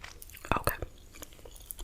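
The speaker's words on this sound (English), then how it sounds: "we're going to be chewing this Airheads Blue Raspberry" Airheads Blue Raspberry gum is chewed close to the microphone, giving a few wet, sticky smacks and clicks of varying strength in a quiet setting, with soft whispering mixed in.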